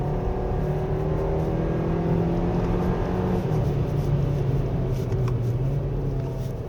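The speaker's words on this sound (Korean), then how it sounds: "이 높은 회전수에서 엔진이 좀 거렁거렁하죠" A 2024 Hyundai Kona 1.6 turbo 2WD engine revs hard at high rpm on a slippery winding road, a steady droning growl with rising and falling harmonic tones and faint tire noise, heard from inside the car with no talk.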